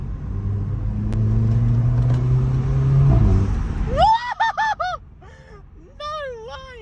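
A Polo GTI with a Racing Line induction kit revs up in a rising, droning engine tone for several seconds, then sharp, honk-like chirps follow in quick bursts, loud and close.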